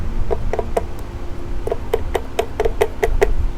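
A key is tapped into a Yamaha 125Z motorcycle engine with a series of sharp metallic knocks, a few spaced taps and then a quicker run of about ten, loud and close over a steady workshop background.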